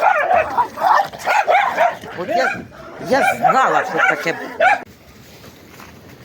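Several dogs bark, yip and whimper in a frantic, overlapping scuffle up close, with a person speaking briefly among the noise before it quiets.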